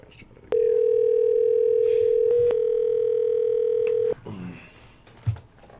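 A steady telephone dial tone sounds for about three and a half seconds before a call is placed, loud and continuous with a brief break near the middle, then gives way to faint clicks and quiet room noise.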